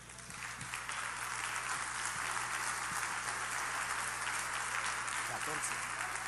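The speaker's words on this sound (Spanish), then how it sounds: "démosle un aplauso al Señor" A church congregation at a Spanish-language service applauding, a dense, continuous wash of clapping that swells in quickly and holds steady throughout.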